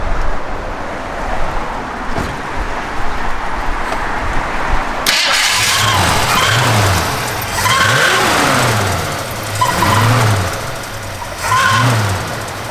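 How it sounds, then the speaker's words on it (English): A 1963 Ford Fairlane 500 fires up after a few quiet seconds: a starter crank, the engine catching, then a run of rhythmic revs rising and falling over a rumbling idle, close and loud. "Go ahead, Dale, fire it up."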